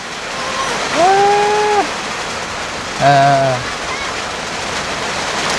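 Steady rain falls with an even, close, hissing patter throughout, while two short voices briefly rise above it.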